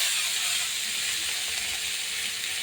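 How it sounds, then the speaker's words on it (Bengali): Bathua greens and chillies hitting hot oil in a pan, a loud, steady hissing sizzle that stays constant throughout with no talking. "দেখুন তেল গরম হয়ে গেছে, এবার আমি বেতো শাকটাকে দিয়ে দেবো।"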